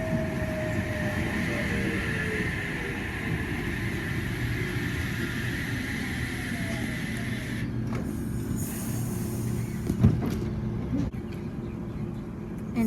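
H12 passenger train set departing a station toward Dapto, a steady loud rumble of wheels and motors close by, with a brief squeal and a few clanks near the end.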